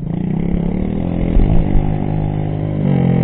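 A Honda CRF 50 or Coolster 50 mini bike engine revs hard, a buzzy, high-pitched single-cylinder drone that holds steady with a couple of brief blips, close and loud throughout.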